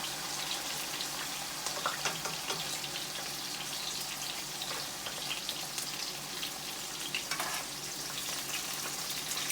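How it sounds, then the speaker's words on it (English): Asparagus sautés in a hot pan beside frying milkfish, a continuous close sizzle with crackling pops and occasional stirring scrapes throughout. "Saute them up. As you see, these asparagus just get nice and good."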